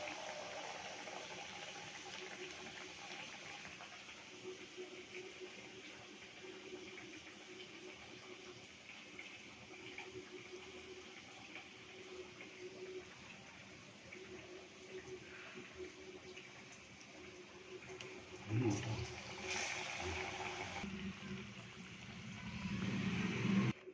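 Flattened potato chops coated in gram flour batter fry in hot oil, a steady close sizzle and fine bubbling that carries on evenly throughout, with a few louder clatters and spikes of movement toward the end and no talking.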